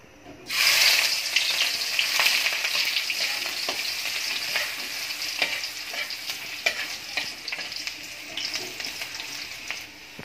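Onions fry in a hot pan with a steady, loud sizzle that runs throughout, and a spoon clicks and scrapes as they are stirred.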